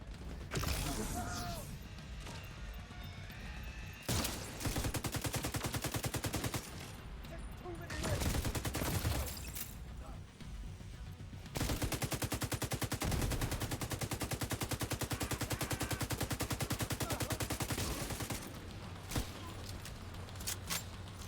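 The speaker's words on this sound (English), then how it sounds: "It is so nice having this turret as like a backup friend to shoot stuff." An automated turret fires at enemies in The Division 2, rattling out rapid, sustained bursts that run through most of the stretch with a few brief pauses and mechanical clatter between volleys.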